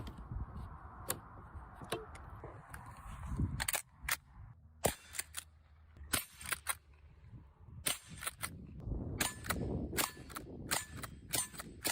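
.22 rifle shots play back from a gun video as a scattered series of sharp, fairly faint cracks, some single and some in quick pairs, over low background noise.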